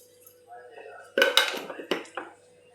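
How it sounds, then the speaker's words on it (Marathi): Puri dough ingredients, including oil and salt, are stirred together in a bowl, with a few sharp close clinks and scrapes of a utensil against the dish after a quiet start. "हे सर्व जिन्नस आपण आता एकत्र करूया।"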